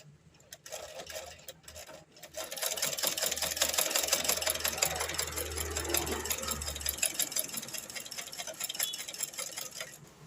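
A sewing machine stitches steadily after its thread tension screw has been tightened, a loud, even rapid ticking clatter that runs for about ten seconds with a low motor hum beneath it.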